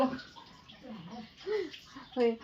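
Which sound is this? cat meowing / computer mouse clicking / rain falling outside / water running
water running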